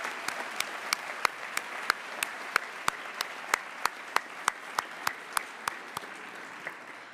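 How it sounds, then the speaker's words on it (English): Audience applause at a student-athlete awards event, heard as a thin, steady patter punctuated by a regular series of sharp, louder claps from one nearby clapper, continuing about seven seconds at moderate volume. "let's have a big round of applause for Chris."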